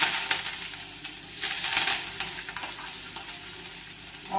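Curry leaves drop into hot oil already crackling with mustard seeds, fenugreek and a broken dried red chilli, giving a close, uneven sizzle with sharp pops and bursts throughout.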